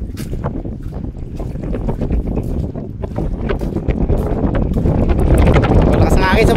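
Strong wind at the sea buffets the microphone in a steady, rising roar, with waves and a boat's motion underneath and people chatting over it.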